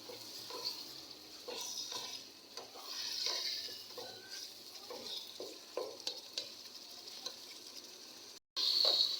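Chicken roasting and being stirred in a pan for a spicy chicken curry, with steady broadband sizzle and repeated scraping stir strokes, close and alone without talk.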